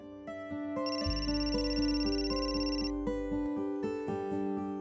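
A ringtone plays on a phone in a home during a Hindi TV drama, with a steady electronic melody of repeating tones and a sustained low hum, loud and close with no talking.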